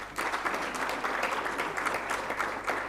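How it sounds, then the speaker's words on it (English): Sustained applause from an audience at a university mining engineering partnership celebration, steady dense clapping that fills the whole stretch at moderate loudness with no talk over it. "They too require your round of applause."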